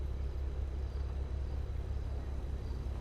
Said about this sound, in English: Dude, these engine sounds are just so loud.